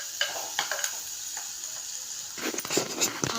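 Shallots and green chillies sautéing in a pan, with a close, gentle sizzle and light scraping stirs that grow busier toward the end.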